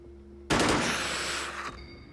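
A single burst of automatic gunfire in the tactical strategy game Xenonauts, starting abruptly over a quiet tonal hum as a dense rattling roar for about a second, then cutting off.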